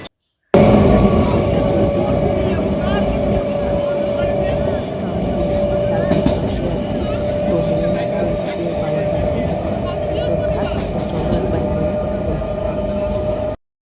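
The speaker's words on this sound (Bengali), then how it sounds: "তো ট্রেনটা চলে গেল আমরা নামলাম" A train pulls away from a station platform, its steady, loud rumble and a sustained mechanical whine running unbroken for the whole stretch, with voices faintly present underneath.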